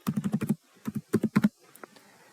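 Quick bursts of typing on a computer keyboard while entering a spreadsheet formula: a fast run of crisp key clicks, a short pause, then two more clusters of taps, close and clear with no talk.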